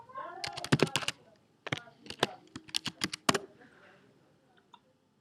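Fingers type Gmail account details on a computer keyboard in quick, uneven bursts of close, crisp key clicks, with a short pause midway before the tapping thins out and stops.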